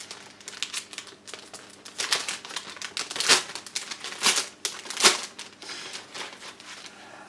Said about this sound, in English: Let's get the plastic out and have a nosy.